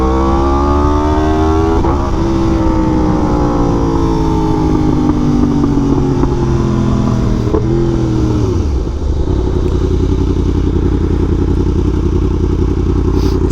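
A Yamaha R1M motorcycle fitted with a quickshifter and auto blipper roars loudly and close, its engine climbing in pitch through several rapid clutchless gear changes, then dropping sharply into a low rumble.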